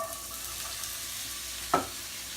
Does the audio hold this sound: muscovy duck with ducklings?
no